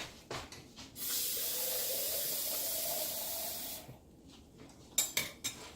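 Water gushes steadily into a pot for about three seconds, a bright hissing pour, followed by a few light clinks of cookware.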